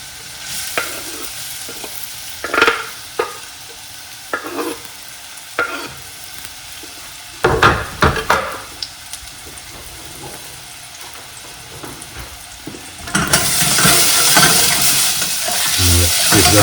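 Apple pieces fry in hot olive oil in a pan over high heat, with scattered sizzles and stirring scrapes that swell into a steady, louder sizzle near the end.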